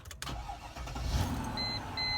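A Mercedes-Benz ML W163 engine cranks and catches in a short start: a sharp burst of starter noise settling into a steady mid-range idle, with faint electronic beeps near the end.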